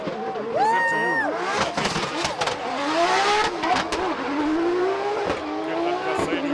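A 1200 hp drift car with a fully built 2JZ engine revs hard in repeated rising and falling bursts, with tire squeal and crowd noise at a drift showcase.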